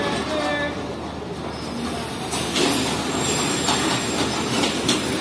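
The Jaffer Express passenger train, with a brake van and coaches, rolls nearby with a steady rumble, wheel clatter and occasional squeal, and someone speaks over the noise.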